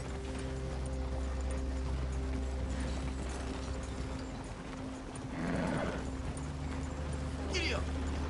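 Horse hooves clip-clop in the video game Red Dead Redemption 2, faint and rhythmic under a steady ambient bed. A rider's voice and a brief louder rustle come in midway.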